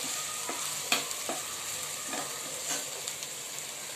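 Onion and capsicum stir-frying in a pan, a steady sizzle with intermittent clinks and scrapes of a spatula tossing the vegetables, close and even throughout, with no talking.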